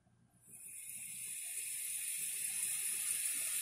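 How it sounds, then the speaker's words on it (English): Rain sound played through a Google Home Mini speaker fades in and settles into a steady, even hiss of falling water, heard close with no talking. "And it plays the sound of rain."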